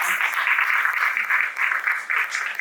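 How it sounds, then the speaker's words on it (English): Audience applause at a panel event on innovation in Miami, steady moderate clapping throughout, a bit distant and even in intensity. "give a big round of applause to everyone."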